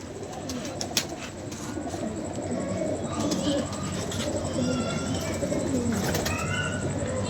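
Sabz chini pigeons cooing repeatedly in low, soft calls amid a busy, noisy background, with a few sharp clicks and occasional chirps.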